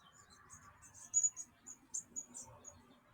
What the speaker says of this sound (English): oh, bush tits are here. The bush tits are awesome.